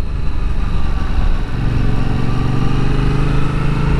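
A Yamaha R7 motorcycle engine runs steadily while the bike is ridden, a loud, continuous drone heard close up. A rising tone comes in partway through, with no speech.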